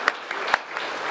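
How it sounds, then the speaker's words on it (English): An audience at an energy start-up award ceremony applauds a winner, with a soft wash of clapping and a few sharper, more distinct claps standing out. "A big round of applause for our winner."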